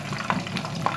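Jackfruit-leaf fish sizzling in hot oil in a pan, a steady close crackle with small pops scattered through it and no voices.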